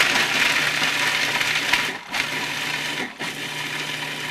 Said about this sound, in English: Pulse it till they're finely chopped.